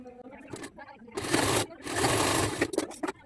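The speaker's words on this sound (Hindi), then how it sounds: "चलो फटाफट से मैं स्टिच कर लेता हूँ इसे।" Sewing machine running straight stitches on a blouse, in two sustained close bursts with short pauses and light handling clicks between them.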